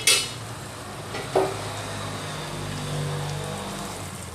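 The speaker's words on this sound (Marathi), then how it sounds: "आता मी जे आधीच पाणी उकळत ठेवलं ते आता घालते" Hot boiled water poured into a pot of chicken cooking with crushed ginger and garlic, a close, steady rushing splash that opens with a clatter and a brief knock, then continues evenly with no talk.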